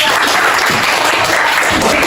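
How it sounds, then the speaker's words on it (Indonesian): A class of pupils breaks into applause during a lesson, a dense and close burst of clapping that fills the whole couple of seconds at strong, even volume with no break. "Tepuk tangan untuk satu."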